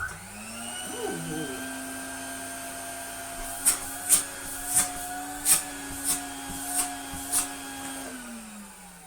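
A 1980 Spinney U62 vacuum cleaner with a Crabtree plug, made in England, starts with a rising whine and settles into a steady, fairly loud motor hum, with a series of sharp clicks or taps partway through.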